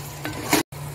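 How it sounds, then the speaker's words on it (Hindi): Diced potatoes are being fried with mint and coriander in a pan. A constant sizzle carries two brief stirring scrapes, and then there is a short sudden dropout. "अब इसको 5 मिनट के लिए भून लूंगी।"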